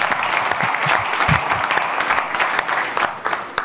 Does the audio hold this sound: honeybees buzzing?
no